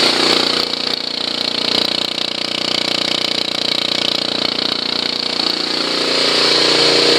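Honda CT110 motorcycle single-cylinder engine idling as it warms up after a cold start, a steady close rattling putter with a constant even rhythm.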